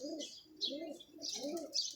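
A pigeon gives soft, throaty coos in a repeated rising-and-falling pattern, mixed with brief higher chirps. The calls sound quiet and close, with no one talking.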